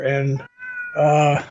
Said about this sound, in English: Folks out there, you hear my cat,